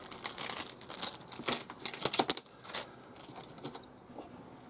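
A plastic bag holding Tamiya Super Clodbuster upgrade parts, including links, crinkles and rustles close by in short, irregular bursts, with small parts clicking against each other inside before the sound fades.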